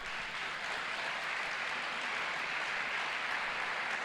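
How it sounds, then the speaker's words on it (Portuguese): A church congregation applauding, a dense, steady wash of many hands clapping at moderate distance, continuous and even throughout with no voices. "Quem pode dar um aplauso ao Senhor por isso?"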